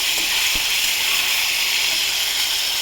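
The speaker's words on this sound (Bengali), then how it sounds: "নুন দিয়ে নাড়াচাড়া করবো" Ridge gourd with salt fries in a pan, giving a steady hissing sizzle close by, with a single soft stirring knock early on and no talking.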